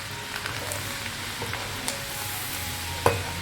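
Sev fries and foams in hot oil with a steady close sizzle and bubbling, punctuated by a few light stirring clicks and one sharper tap near the end.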